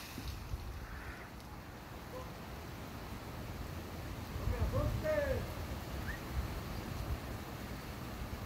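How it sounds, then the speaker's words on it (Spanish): Strong outdoor wind buffets the microphone with a steady low rumble and gusty roar, and a voice speaks briefly partway through. "Pinche viento está muy fuerte."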